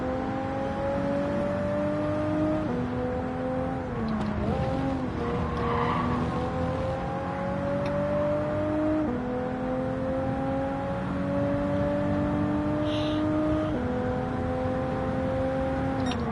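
Mitsubishi race car in Gran Turismo 7 driving with a steady engine drone that rises and shifts through gears, with brief tire squeal, continuous and close throughout.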